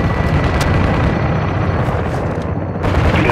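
Dense, continuous rumble of gunfire and blasts with sharp bursts cutting through, loud and close, from a battle scene in Call of Duty: Modern Warfare II.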